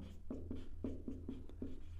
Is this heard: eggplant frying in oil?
no